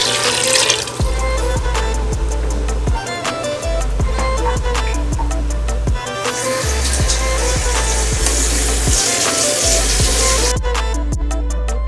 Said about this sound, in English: Adding my chicken stock.